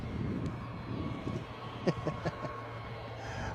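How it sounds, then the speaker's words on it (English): An EasyJet airliner takes off from Bristol Airport bound for Newcastle, its distant engine roar steady and fairly faint, with a few sharper knocks nearby. "Hopefully you can hear the sound of that EasyJet making its escape quickly before the Ryanair gets in"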